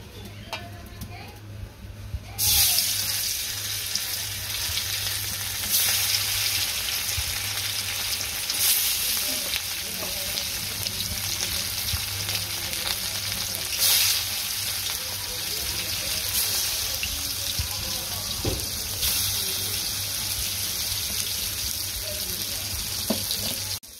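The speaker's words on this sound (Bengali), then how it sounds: "তেল দিয়ে জিরা টেরা দিয়ে দিছে মাছ হলুদ মরিচ" Fish sizzles steadily in hot oil with cumin, turmeric and chili, a dense continuous frying hiss that starts abruptly after a short quiet lead-in and holds close and loud, with faint voices in the background.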